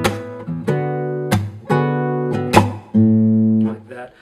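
Electric guitar riff (measure 17), mixing sustained chord strums with sharp percussive slaps, played close and alone, with several distinct attacks over about four seconds.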